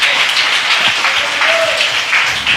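A church congregation breaks into loud, sustained applause to the Lord during a sermon, a thick roar of many hands with faint voices mixed in, close and full throughout.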